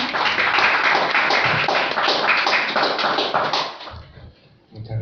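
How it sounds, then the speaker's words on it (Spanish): An audience at a lecture breaks into dense, sustained applause that fills the room, then fades out abruptly near the end. "Un aplauso, por favor."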